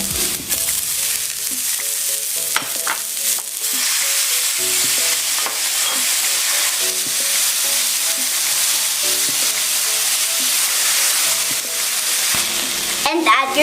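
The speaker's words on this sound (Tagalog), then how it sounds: "In a pan, heat some oil. And saute the garlic," Garlic, onion and tomato sauté in hot oil in a pan, a steady close sizzle and fry running throughout with occasional clinks and scrapes of stirring.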